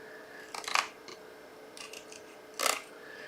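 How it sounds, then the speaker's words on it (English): Scissors snip through paper while making a card, a few short, crisp cuts spaced apart against a quiet room, with one louder snip near the end. "There's my scissors."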